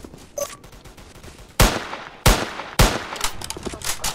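Gunfire in the Roblox shooter Polyguns: three loud, sharp shots spaced about a second apart, with a few fainter game sound effects before them and a busy digital bed continuing afterward.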